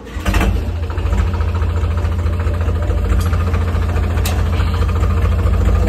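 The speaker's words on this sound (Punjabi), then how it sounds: "ਟਰੈਕਟਰ ਉੱਥੇ ਬੈਕ ਕਰਕੇ ਲਾ ਲਾ" A tractor engine runs steadily while the tractor backs up at Hola Mahalla in Anandpur Sahib. The diesel rumble and vibration are loud and close, with no talk over it.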